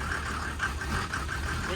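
A broken Mercedes G Wagon engine runs roughly, its low idle pulsing in an uneven, regular chug, with people talking nearby.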